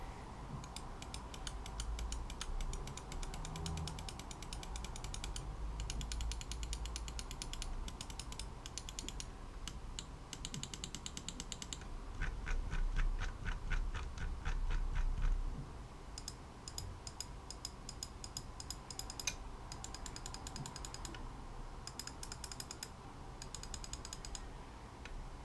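A G Wolves Skoll gaming mouse scroll wheel ticks through its notched steps in fast, evenly spaced bursts of crisp clicks, close and fairly quiet, with brief pauses between runs and no voices.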